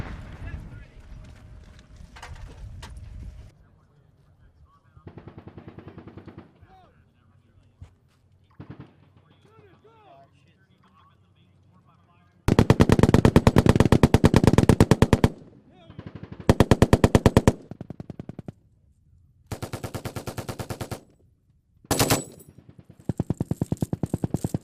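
Bursts of automatic machine gun fire crack out loud and near in several rapid strings, the longest running a few seconds, separated by pauses with distant shouting and quieter activity between volleys.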